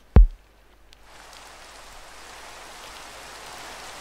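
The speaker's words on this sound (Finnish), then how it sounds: "Nyt ollaan sateessa. Vettä tulee ihan saavista kaataen." Heavy rain in Minecraft starts after a single sharp click, fading in as a soft, even hiss that holds steady and fairly quiet to the end.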